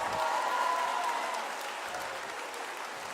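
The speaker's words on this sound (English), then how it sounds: "Give them all a big round of applause, guys." An audience applauds with sustained crowd clapping, fuller at first and then easing slightly to a steady level for about three seconds.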